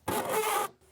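A short, harsh rubbery squeal as a dry squeegee blade drags across a car's back window glass during window tinting, lasting just over half a second, close and fairly loud.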